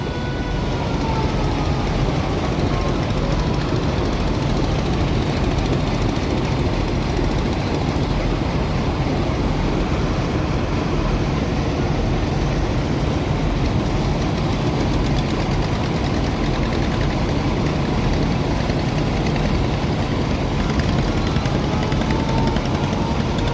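A passenger launch (river ferry) engine runs as the Lalmonir vessel pulls away on a rainy-season river trip, a loud, steady, close drone that holds unbroken for the whole stretch with no voices.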